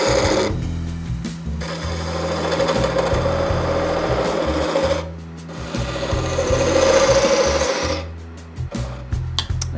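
A woodturning lathe shapes a large bead with a skew chisel-gouge: a steady motor hum runs under two long, close rasping cuts separated by a short pause, with a further break near the end.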